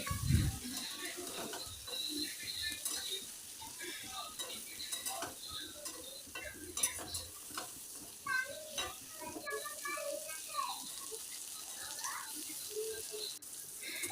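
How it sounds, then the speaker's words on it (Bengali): Brinjal pieces salted and dusted with turmeric are stirred while frying in oil, with soft scattered clinks and scrapes of utensils against the pan, fairly quiet, while a voice talks over them. "এবারে বেগুনগুলো এইভাবে নেড়ে ছেড়ে খুব ভালো করে ভেজে নিচ্ছে"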